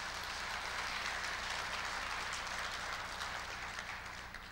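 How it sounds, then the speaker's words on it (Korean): Applause from the audience at a university president's inauguration ceremony, a soft, distant, continuous patter of many hands filling a large hall, steady throughout and fading a little at the close. "박수 보내주세요"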